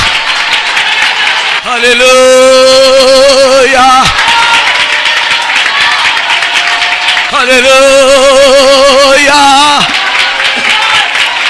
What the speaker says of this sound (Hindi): तू ताली बजा